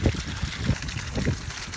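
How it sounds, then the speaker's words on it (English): Pond water pumped up to a basin spills down a backyard garden waterfall, a soft close trickle and gurgle with a few low splashy pulses, heard alone. "pushes it up to this big basin, and then it comes down the waterfall"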